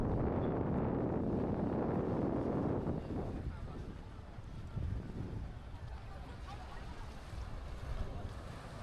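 Strong gusting wind buffets the microphone on a windy beach, loud and roaring at first, then easing to a steadier rush with surf in the background.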